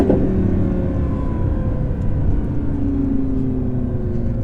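An 850 bhp Audi R8 V10 Plus engine roars loudly and continuously at full throttle from inside the car on a B road, its tone rising steadily as it pulls.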